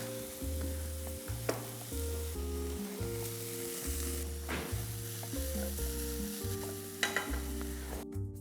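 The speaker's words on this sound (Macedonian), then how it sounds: "Додека сланината си се пржи" Bacon sizzles and crackles steadily in a frying pan, a close, continuous fry with occasional louder pops, heard alongside a melodic music track.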